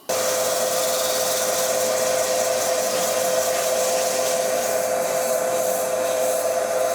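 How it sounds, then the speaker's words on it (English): A steady, continuous whir of power sanding on a wooden saucer, loud and unbroken throughout with a constant motor hum. "I can get that sanded up now"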